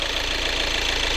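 A Volkswagen Tiguan diesel engine idles with a steady, even low rumble and faint knocking clatter throughout, heard during an intake cleaning and flushing job.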